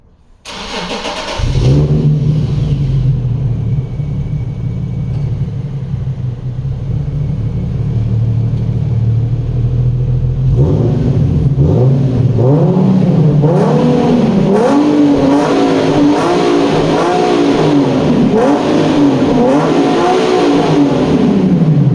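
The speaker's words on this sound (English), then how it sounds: "I'm just going to start my car and show you guys what it sounds like now" A modified Infiniti G37 or Nissan 370Z engine with a muffler delete cranks and catches, then idles with a loud, raspy rumble before revving repeatedly, the unmuffled exhaust roaring close by with no talking.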